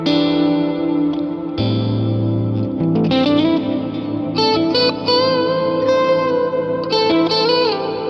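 Electric guitar played through a big washy reverb with pre-delay set to zero, sustained chords and single notes ringing out with a long wet tail smeared over the tone, loud and alone.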